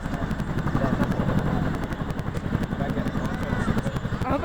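An RCAF Chinook helicopter hovering nearby, its loud, steady rotor thrum with rapid blade chop running throughout, with people talking over it.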